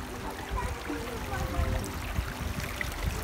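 A river runs over stepping stones in a country park with a soft, continuous burble and trickle, steady and moderately close, with faint background voices.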